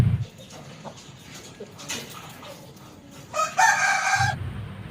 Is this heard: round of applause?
no